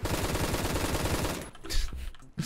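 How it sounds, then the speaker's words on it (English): Rapid full-auto bursts from the G3 rifle in the game Phantom Forces, a dense, loud rattle of shots for about a second and a half, followed by a few scattered, quieter in-game impacts. "The G3 in Phantom Forces has quite the bark and quite the bite."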